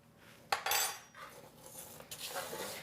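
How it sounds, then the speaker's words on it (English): A spoon clinks and scrapes against a bowl while fresh berries go onto Greek yogurt and granola, a few quiet close taps and soft scraping with no talk. "let me spoon on a few fresh berries"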